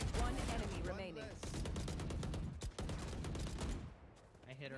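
Rapid gunfire in the video game Valorant comes in dense bursts of sharp shots, fairly quiet overall, with a voice talking briefly over the opening volley and the firing thinning out toward the end.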